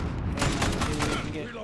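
An AA-12 automatic shotgun fires in Modern Warfare, a fast string of loud, closely spaced blasts rattling out in a dense burst.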